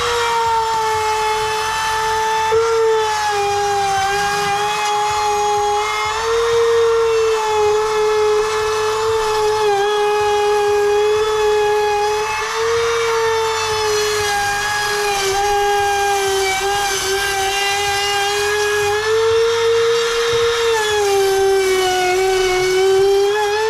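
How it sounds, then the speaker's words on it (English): A high-pitched trim router with a flush trim bit whines steadily for over twenty seconds, loud and close, cutting out a campervan shower panel, its pitch dipping slightly now and then as it cuts. "grab a trimmer, and this has got a flush trim bit"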